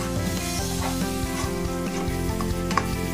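Onions and spices with chopped green chili frying in a pan over low heat while being stirred, producing a continuous close sizzle with rhythmic scraping strokes and an underlying steady hum.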